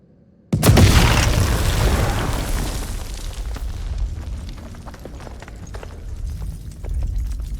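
A heavy blast in the House of Ashes video game hits suddenly, loud and close, then trails into a long rumbling decay scattered with debris crackles and pops.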